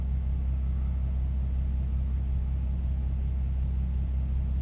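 A Kenworth truck pulling a Conestoga trailer rolls past with a deep, steady engine rumble and road noise, loud and constant throughout with no voices.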